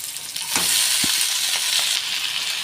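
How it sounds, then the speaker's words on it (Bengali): Leafy greens from a rooftop garden are tipped into a pan of hot oil with fried onion and green chilli, and a loud, steady sizzle builds and holds close by, with a few scraping stirs along the way. "পেঁয়াজ ভাজা হয়ে গেছে শাকগুলো দিয়ে দেবো"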